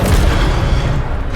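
A spell cast in the video game Hogwarts Legacy bursts out as a loud, dense low boom that fills the short moment and then stays steady and heavy throughout.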